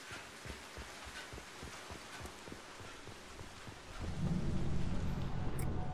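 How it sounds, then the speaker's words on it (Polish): Steady rain hisses in the Mass Effect 2 video game, with soft patter and low rumbling beneath, swelling into a heavier, deeper roar in the last couple of seconds. "pada deszcz"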